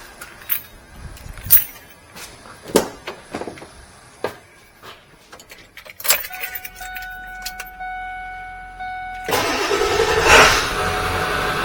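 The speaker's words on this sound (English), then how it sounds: "we're going to go and start the engine, and we're going to go ahead and press alternator test" Keys jangle and clatter in a few sharp bursts before a car engine cranks and catches at a diagnostic alternator test, settling into a steady idle with a faint electronic tone.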